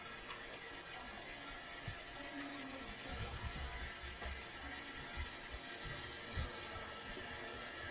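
Water running from a tap is added to cornstarch and stirred in while cooking pares, a steady, fairly faint rushing wash with low splashy bumps underneath and no voices.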